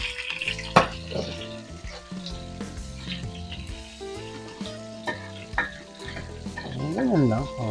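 Garlic and onion sautéing in a pan for beef sinigang, a steady close sizzle with clattering stirs and scrapes, and a utensil knocking sharply against the pan near the start.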